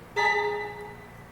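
Woodwinds from a Spitfire LABS Scary Strings library sound one dissonant orchestral chord, with a sudden onset and a steady, reedy hold that fades away alone over about a second.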